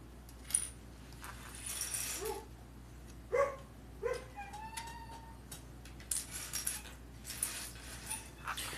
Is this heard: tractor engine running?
no